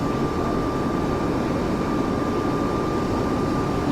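Airbus A220 jet engines in a flight simulator sound package, a steady broadband roar with a constant whine, heard alone and unchanging.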